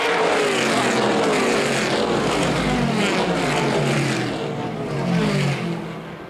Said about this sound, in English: the car swirling down into this tri-oval area